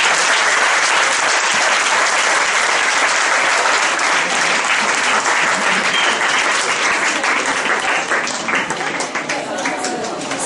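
A school audience at a cancer outreach talk in Buea, Cameroon, claps loudly and steadily for a speaker. The dense applause is close and sustained, fading slightly near the end, with crowd voices mixed in.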